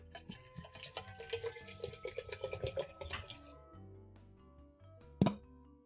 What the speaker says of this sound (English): Water pour ASMR from me refilling my water bottle